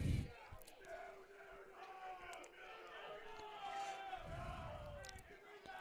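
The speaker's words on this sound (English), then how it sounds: "A lot of noise from our crowd here tonight." Crowd noise at a night varsity high school baseball game, distant murmur and shouts with a few bursts of yelling, faint and under a commentator's voice.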